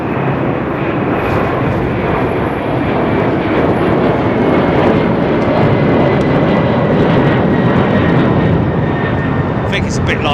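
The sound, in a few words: jet airliner departing runway 09R at London Heathrow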